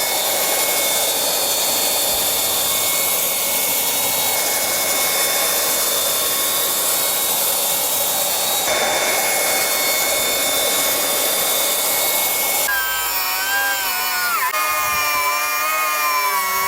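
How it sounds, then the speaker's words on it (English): A Milwaukee 36V cordless vacuum running on two M18 batteries gives a loud, steady motor roar throughout, up close, shifting pitch near the end as debris is sucked up. "I think it's now time we actually put some batteries in this thing and use it. I want to suck up some stuff."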